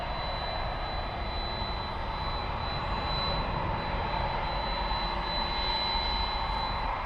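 A 17-year-old jet airliner arrives at DFW Airport at night after a 5.5-hour flight. Its engines give a steady, loud roar that holds throughout, with no voices.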